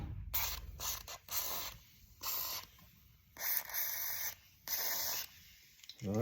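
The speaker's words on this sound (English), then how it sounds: "spray it a little bit in" Several short bursts of Breakaway penetrating oil spray hiss out close by on a 5.9 Magnum engine, separated by brief pauses, with faint mechanical clicks and rubbing between them.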